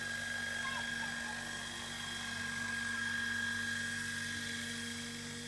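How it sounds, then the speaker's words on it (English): A helicopter delivering vaccine in hilly Indian terrain lands with a steady, loud rotor and engine drone and a whining tone held throughout. "Now the helicopter has landed."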